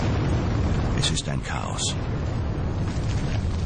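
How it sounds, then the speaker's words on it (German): A continuous rumbling din of battle from the 1863 fight at Gettysburg in the American Civil War, with explosions and flying bullets and shells, rolls on beneath someone narrating in German. "Kugeln und Granaten fliegen in alle Richtungen."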